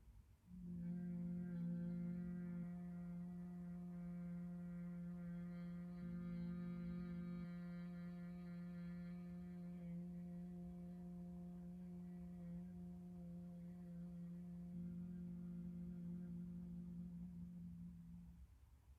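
A long sustained humming exhalation during pranayama breathing practice, a steady low-pitched voiced hum held for nearly twenty seconds at even loudness, close and alone.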